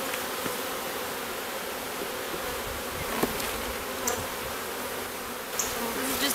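Honey bees buzz densely around an open backyard hive during an inspection, a steady close swarm hum lasting throughout with occasional louder passes near the microphone and no speech.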